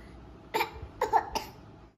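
A small child coughs three times in quick, short bursts, close and fairly soft, with quiet room tone between them and no speech.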